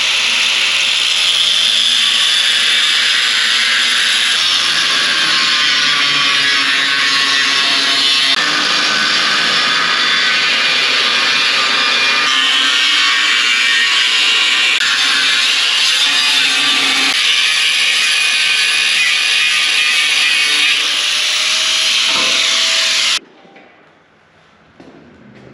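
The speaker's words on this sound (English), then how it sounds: "I think I'm gonna cut this frame down a little bit, shorten it up so that I can get the bed closer to the cab" A power tool cuts through the steel frame of a Cummins-powered Dodge truck, a loud continuous grinding whine held for over twenty seconds before it abruptly stops and leaves quiet room noise.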